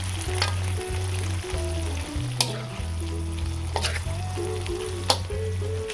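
Salted sardines and chayote frying in a pan while being stirred, a steady close sizzle with a few sharp utensil taps against the pan, no talking.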